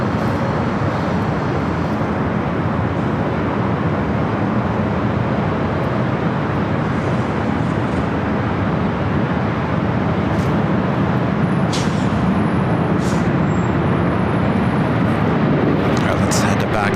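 An Airbus A350-900 airliner bound for Istanbul takes off at LAX with a loud, steady roar of jet engines that holds for the whole stretch, while faint voices are heard in the background.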